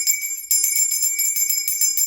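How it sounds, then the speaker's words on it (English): A small hand bell rings during a tarot reading, struck in a quick series of bright, clear rings that shimmer and overlap, close and fairly loud with no talking. "You'll hear a little bit of bell."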